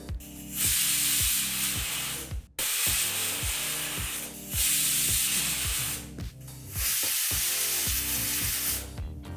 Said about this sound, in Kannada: ಈಗಿಲ್ಲಿ ಕುಕ್ಕರ್ನ ನಾಲ್ಕು ವಿಸಲ್ ಕುಕ್ಸ್ ಆಯಿತು